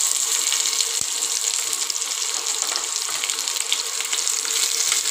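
Curry leaves and long-sliced onions frying in a pan of hot oil while a stuffed bitter gourd curry is being prepared, giving a steady, close, crackling sizzle with no voices.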